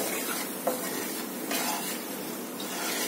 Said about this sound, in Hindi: सूजी में चला रही हूं